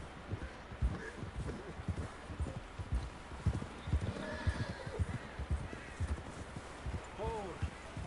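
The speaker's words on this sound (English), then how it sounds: "John was riding that horse when we left Blackwater" In the video game Red Dead Redemption 2, a horse neighs loudly near the end, after a steady clip-clop of hooves trotting close by, with people talking over it.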